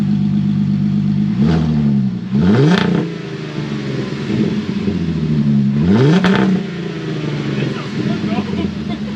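VW Atlas R-Line engine with the exhaust pipe removed, running as a muffler delete: a loud, raspy idle broken by three sharp revs that climb and fall back, recorded close.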